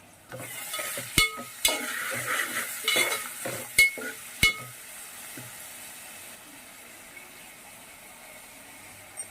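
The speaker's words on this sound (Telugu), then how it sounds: "దీంట్లో కొంచెం కరివేపాకు, అలాగే కొంచెం జీలకర్ర వేసుకున్నాను నేను. ఇవన్నీ కూడా ముందు ఇలాగా ఫ్రై చేసేసుకోండి" Curry leaves and cumin seeds fry in oil for a small fish and raw mango curry, a low sizzle and crackle broken by several sharp scraping stirs, quieting to a faint steady hiss.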